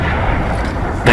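An explosive sniper rifle fires in Fortnite Chapter 3 Season 1: a dense, booming rumble rolls on steadily, then a sharp, louder blast bursts in at the very end.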